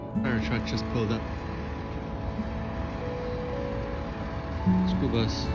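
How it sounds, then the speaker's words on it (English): A fire truck's engine rumbles nearby as it pulls up on a street on an early morning walk, a steady low idle with brief tonal whines, while a person talks over it. "Fire truck just pulled up."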